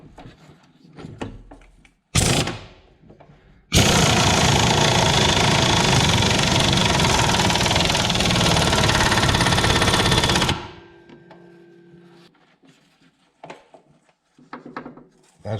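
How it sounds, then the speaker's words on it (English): Ring and pinion gear backlash in a Jeep CJ-5 front axle, heard as a loud sustained mechanical grinding whir for several seconds after a short burst, then dropping to quieter clunks and knocks. "That's just the ring and pinion backlash you're hearing."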